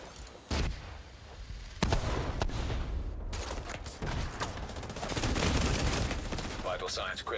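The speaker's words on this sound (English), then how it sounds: "Double mortar." Double mortar artillery fire in a video game, heavy thumping launches and booming detonations with sharp cracks, layered with mechanical clatter and ongoing gunfire, loud and sustained with a clear synthetic voice audible at moments.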